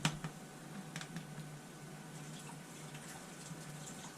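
A spatula rinsed under a running kitchen tap, steady water hiss with a few small clinks and splashes near the start, moderately quiet and close, with no talking.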